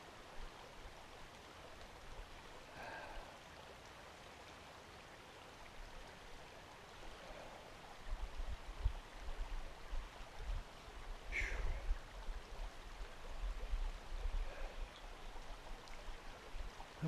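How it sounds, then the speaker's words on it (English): A creek bubbling by, a steady low wash of running water that thickens and grows louder partway through, with a few faint clicks and splashes near the surface. "I've always thought the sound of a creek bubbling by was very soothing."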